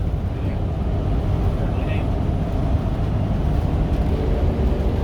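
A car driving, a steady low road and engine rumble heard from inside the cabin, constant and fairly loud, with a person talking over it.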